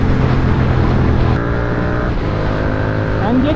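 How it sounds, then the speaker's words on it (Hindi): Engine of a Kia car accelerating hard at full throttle on a road, a loud steady drone with rising revs heard close by, mixed with a motorcycle's own engine noise. "एंड ये किया वाले भैया जाते हुए फुल थ्रॉटल"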